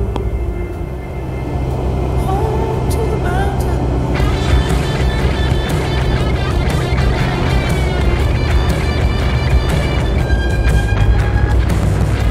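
A light aircraft with a Rotax 912 engine lands three-point on a gravel runway, with a steady loud engine drone and rumbling wheels and gravel noise from inside the cockpit, and a voice briefly heard over it.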